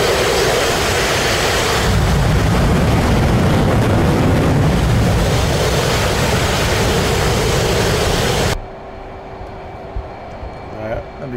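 Jet engine roaring at full throttle in a VR aircraft carrier flight game, a loud, steady, broadband blast that holds for about eight seconds before cutting off abruptly to a quiet hum.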